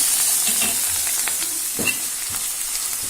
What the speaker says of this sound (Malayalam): സവാള കൂടി ചേർത്ത് കൊടുക്കാം. നന്നായിട്ടൊന്ന് ഇളക്കി കൊടുക്കണം.